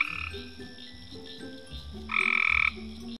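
Cope's gray tree frogs trill nearby in Arkansas in short overlapping bursts, one call swelling louder and higher near the end, with other frogs chirping softly around it.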